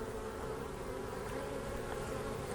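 Honey bees from a newly installed colony buzz steadily at the hive entrance during a first inspection, a faint, continuous, even drone with no voices.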